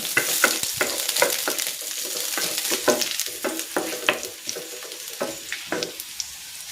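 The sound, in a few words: sautéing garlic in a pan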